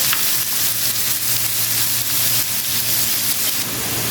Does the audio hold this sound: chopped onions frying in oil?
yes